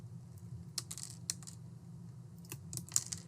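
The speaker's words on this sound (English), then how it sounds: "I need to cut these shorter. So I'll go ahead and I'm just going to give it a snip." Sharp snips cut network cable wires shorter, producing several quick, faint clicks and crisp cuts spaced irregularly against a low background hum.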